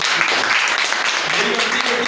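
Audience applause at a business plan seminar, a dense, steady wash of many hands clapping throughout, loud and close with no pauses.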